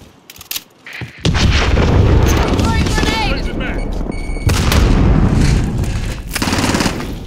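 Rapid automatic gunfire and booming shots from Call of Duty Modern Warfare team deathmatch erupt after a brief quiet start, continuing loud and dense with short pauses, while game voices speak over the action.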